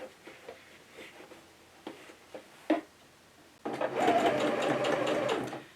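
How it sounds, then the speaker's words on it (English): A sewing machine stitches along the folded sides of summer shorts, starting after a few soft handling clicks and then running in a steady, close whirring hum for about two seconds. "I'm going to fold the top down like this and stitch just on the sides."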